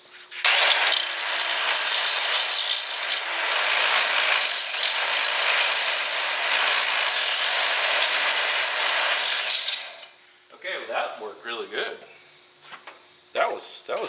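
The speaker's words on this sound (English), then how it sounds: "I'm gonna throw a little weld on here" Welding on a Servis three-point blade scraper for an Oliver 1755 diesel tractor, a loud, steady crackling hiss lasting about ten seconds before cutting off, followed by someone talking.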